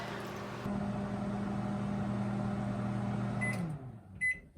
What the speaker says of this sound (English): Looks like our microwave is done.